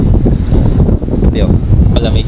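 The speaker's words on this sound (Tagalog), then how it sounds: "Malamig ang hangin." Strong, cold wind buffeting the microphone of a GoPro Hero Session on a Manila swimming outing in loud, rumbling gusts, with faint voices and brief clattering sounds mixed in.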